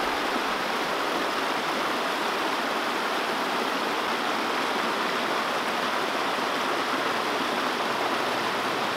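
A creek flowing steadily in the open, a dense, continuous rushing wash of water that stays loud and even throughout, with no voices.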